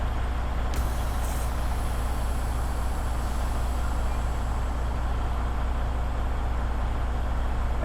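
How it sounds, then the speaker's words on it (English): Truck trailer parking brakes are released during a pre-trip brake check, a sharp burst of air near the start sitting over a loud, constant idling engine rumble. "I would like to check my trailer brakes by releasing my parking brakes."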